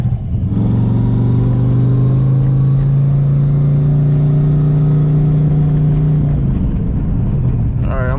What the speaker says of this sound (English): I know I got a tuning issue around 2000 RPM, and it's sounding a little funny around that RPM